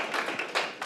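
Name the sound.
round of applause for Ryan Thompson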